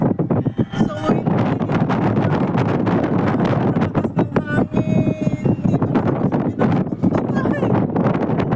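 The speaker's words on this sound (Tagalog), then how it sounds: "Lakas ng hangin." Strong wind buffets the microphone at the top of an Ocean Park Ferris wheel, a loud continuous roar with gusty swells throughout, and people speak and exclaim over it.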